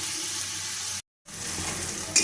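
Tomato and onion with salt frying in a pan give a steady, fairly quiet sizzle, which cuts out for a moment and then resumes.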